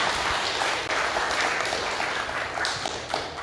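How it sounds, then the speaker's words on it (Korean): A church congregation claps for missionaries at a Sunday service: a continuous, fairly faint patter of many hands heard from a distance, even in level throughout. "다시 한번 큰 박수로 선교사님 응원해 주시기 바랍니다."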